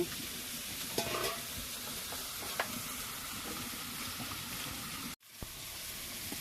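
Small fish fry with leafy greens, including ivy gourd leaves, in a pan, giving a continuous close sizzle with occasional stirring scrapes. The sizzle breaks off abruptly near the end, then resumes.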